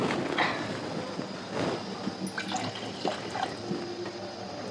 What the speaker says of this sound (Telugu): రెండు గ్లాసుల నీళ్ళు పోసుకున్నాం కదా.